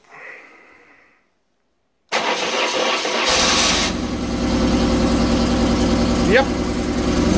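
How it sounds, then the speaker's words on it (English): A BMW R850R motorcycle engine cold starts in winter: a brief crank, a pause of silence, then the boxer twin catches and settles into a loud, steady, close-up idle with a faint voice over it. "I make a cold start video"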